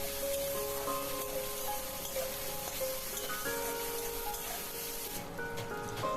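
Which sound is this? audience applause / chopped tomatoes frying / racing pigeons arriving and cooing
chopped tomatoes frying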